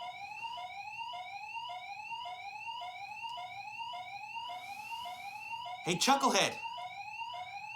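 An alarm wails nearby in a rapid, repeating rising sweep that runs steadily throughout, while someone briefly speaks over it near the end.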